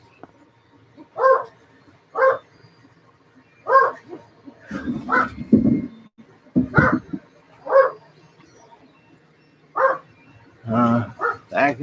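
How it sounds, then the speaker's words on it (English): A dog barks repeatedly indoors, a dozen or so sharp close barks in an uneven rhythm, some coming in quick clusters, with a few low thumps and a brief voice mixed in. "Oh, what's my doggy barking at now?"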